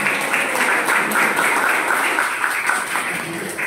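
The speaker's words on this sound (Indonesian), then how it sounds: "Tepuk tangan buat kita semua." People at a youth community gathering in a Surabaya coffee shop applaud together, a continuous, fairly close patter of clapping that holds steady for several seconds.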